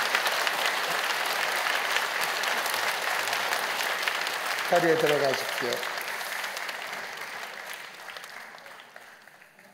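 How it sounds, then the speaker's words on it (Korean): A church congregation gives sustained applause to welcome children at a Sunday worship service, with a dense clapping wash that slowly fades and someone speaking briefly partway through. "큰 박수로 환영해 주십시오."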